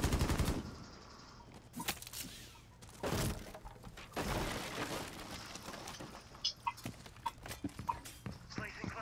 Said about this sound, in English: they're shooting out the window